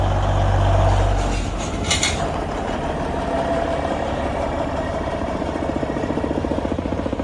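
An old Kenworth Aerodyne truck idles nearby at an equipment sale yard, a steady low diesel rumble with a brief louder burst near the start and a short sharp noise in the middle.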